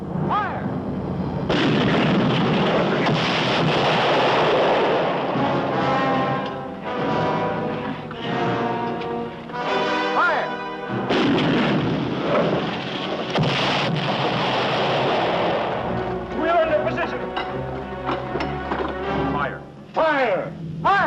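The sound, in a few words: cannon artillery fire in 1951 war western movie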